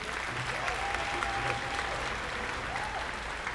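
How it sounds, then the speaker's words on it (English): Audience applause at an alumni concert, a steady even wash of clapping at moderate distance, with a brief voice faintly audible under it. "so let's give her a round of applause anyway"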